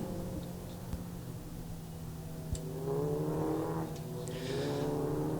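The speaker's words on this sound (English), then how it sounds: "this great line of cars working its way now towards the end of the Wellington Straight" Race cars on the grid at the Hankook 24H Silverstone endurance race, a steady low engine drone from a line of cars moving along the straight, with a few revs rising and falling and a presenter talking over it.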